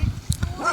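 A dog gives a couple of short, close barks and yips in quick succession, loud and brief.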